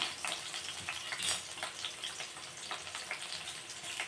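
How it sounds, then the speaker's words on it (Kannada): Green chilies fry in hot oil in a pan for yogurt rice, giving a soft, continuous sizzle with crackling pops and occasional stirring scrapes, fairly quiet and close. "ಹಸಿಮೆಣಸಿಗೆ ಚೆನ್ನಾಗಿ ಖಾರನ ಎಣ್ಣೆಯಲ್ಲಿ ಸ್ವಲ್ಪ ಬಿಟ್ಕೊಳ್ಳೋವರೆಗೂ ಬಿಟ್ಬಿಡಿ"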